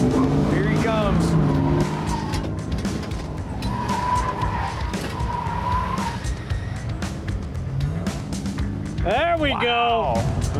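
Stock Chevrolet C10 pickup racing a lap around cones at a pro touring event, engine roaring steadily with sharp tire squeals near the end, while someone talks over it.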